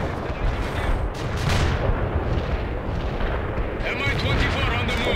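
Artillery fire in the World in Conflict video game: a dense, continuous barrage of booming impacts and rumbling explosions, loud and close throughout, with gunfire mixed into the chaotic battle din.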